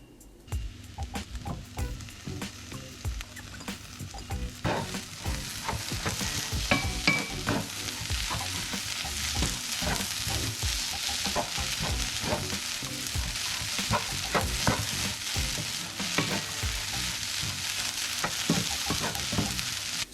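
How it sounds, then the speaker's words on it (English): Garlic, chickpeas and tomatoes for a salmon salad fry steadily in a pan, with continuous close sizzling and occasional stirring scrapes running throughout. "I'm going to add my tomatoes now too, so they cook down a little bit."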